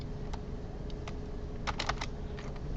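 Code being typed on a computer keyboard during a programming class, with sparse, quiet key clicks that bunch into a short quicker burst near the end over a steady low background hum.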